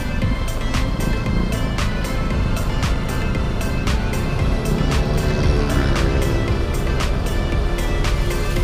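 Road traffic on Paliparan Road in Dasmarinas, Cavite, during roadworks: a steady engine drone with repeated sharp clicking ticks over the traffic rumble.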